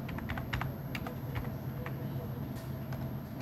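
Clicky computer keyboard keys tapped in quick bursts while a search phrase is typed, close and distinct over a steady low room hum, with no talk.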